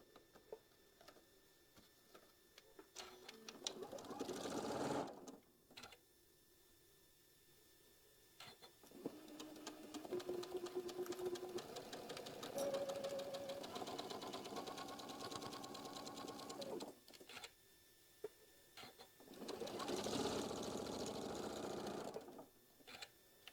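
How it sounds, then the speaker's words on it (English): A quilting sewing machine stitches fabric in several bursts, each a close steady mechanical whir with rapid ticking needle strokes, separated by short pauses with quieter clicks and handling. "We're going to sew this one first, and then we're going to sew the G onto the opposite side"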